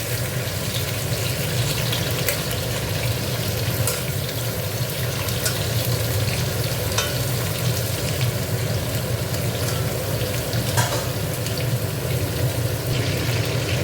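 Fish head chechra being stirred as it fries in a pan, giving a steady, dense sizzle and hiss that carries on evenly throughout with no talking.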